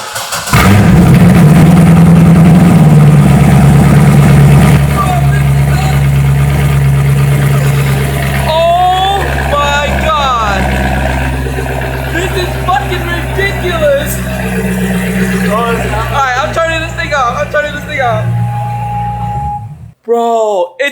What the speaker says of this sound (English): Dude, this by far is like the nicest exhaust tone I have.